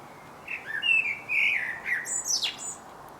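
A song thrush sings from the top of a tree, a short run of clear, bright whistled phrases and a higher chirp, moderately near against a quiet background.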